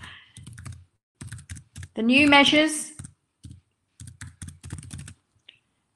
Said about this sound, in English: I can only do one finger typing.